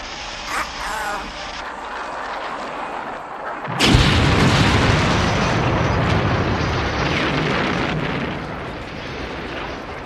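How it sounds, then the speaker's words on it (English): A movie explosion from the horror comedy Critters bursts suddenly after a few seconds of quieter sounds, then a loud, sustained roaring rumble follows and slowly fades. "But that's not the last explosion of the movie."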